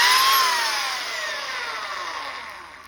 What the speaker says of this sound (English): Here's a Makita belt sander.